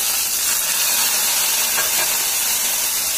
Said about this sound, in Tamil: கடலைப்பருப்பு, உளுந்தம்பருப்பு, கடுகு எல்லாத்தையும் போட்டுடலாம். நல்லா பொரியட்டும்.